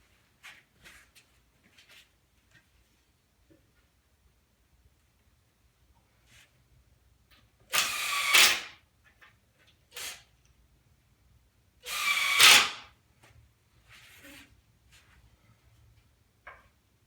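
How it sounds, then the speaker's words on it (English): Power drill driving screws into wooden boards of a 4x8 model railroad benchwork table, two loud whirring bursts a few seconds apart with faint handling clicks and knocks around them. "Your board is going to go over the X, and then simply just drive in the screws."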